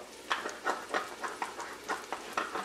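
Mango pieces with cumin seeds and ground masala are stirred in a pan, giving about nine rhythmic scraping strokes over a light sizzle, close and fairly quiet, with no talking.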